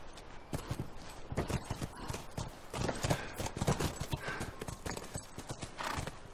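Horse hooves clip-clop in The Last of Us video game, a steady series of sharp close hoofbeats with an occasional faint whinny and no talk.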